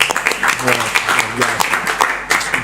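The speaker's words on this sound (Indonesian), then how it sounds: "Tepuk tangan dong semua" Audience clapping hands at an Indonesian church talk show event, a dense steady patter of applause mixed with overlapping voices and cheers throughout.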